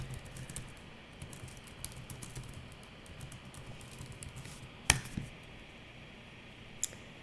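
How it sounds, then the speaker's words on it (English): Typing on a computer keyboard, including presses of the tilde key, gives a quiet, steady run of soft key clicks with a couple of sharper, louder taps standing out near the end. "we can do that by hitting the tilde key"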